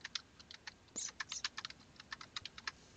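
Quick light button presses tap away as numbers are keyed into a calculator's data list, a rapid uneven run of small close clicks, fairly faint, with no talking.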